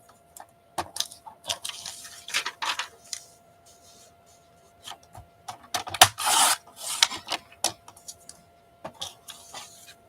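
Scissors cutting down a paper collage image, heard close as irregular rasping snips and rustles with brief pauses between cuts.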